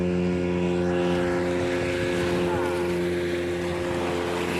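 A motorboat engine runs with a steady, droning hum that stays close and fairly loud throughout, with no speech over it.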